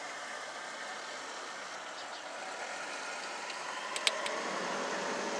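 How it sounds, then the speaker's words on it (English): A car blower motor, wired directly to power, runs steadily with a continuous broadband whirring hiss, faint and even, with a few brief clicks near the end. "And the motor come right on."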